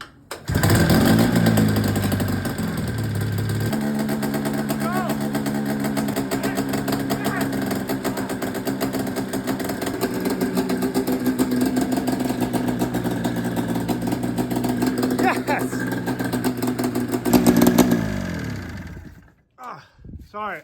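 A snowmobile engine fitted to an off-road go kart runs smoky with no coolant while jacked up with its tires free, a loud, close, steady buzzing roar with revs rising and falling before it cuts off near the end.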